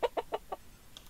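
Chickens in the video game Minetest give four quick, evenly spaced clucks, close and clear, then a brief higher chirp, with no talking over them.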